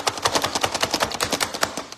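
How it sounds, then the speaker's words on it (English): An electric food chopper cuts celery and onions in quick, rhythmic pulses, with many sharp whirring bursts in rapid succession, close and fairly loud, and no speech. "we're going to chop up all this celery and onions using the food chopper"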